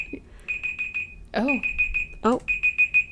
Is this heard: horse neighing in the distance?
no